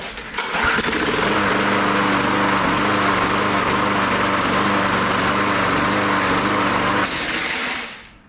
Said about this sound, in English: when I hit the orange button and pull back on the bail, see, it cranks it over